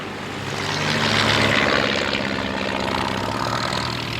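Vintage Miles Falcon propeller aircraft flying at an evening air display at Shuttleworth, its steady engine drone swelling slightly and holding at a moderate distance with no talk over it.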